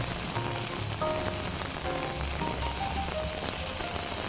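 Zucchini slices fry in a pan, a steady, dense sizzle of hot oil with faint crackles, continuous and close, with no voices.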